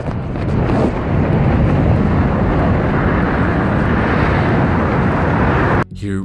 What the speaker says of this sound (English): Here we can only hear the wind